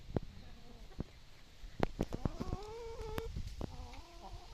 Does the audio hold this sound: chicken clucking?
yes